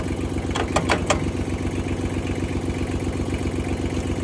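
A 1956 Ford 800 tractor engine cranks and catches briefly with a few quick bursts, then settles into a steady low chugging, close and fairly loud, with no talking.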